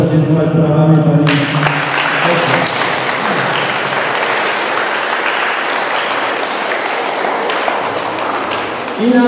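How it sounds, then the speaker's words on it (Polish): Crowd applause for the medical staff at an indoor youth football tournament, loud and sustained throughout, breaking in after a brief voice at the start and continuing steadily to the end. "Bardzo proszę podziękować brawami pani."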